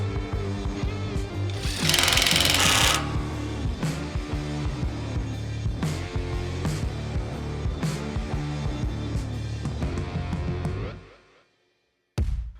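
Bolts on a 2024 Lexus GX550 rear bumper with swing arms are tightened by a power tool that rattles in a fast, continuous stutter close by. The tool cuts out near the end, then gives one brief final burst.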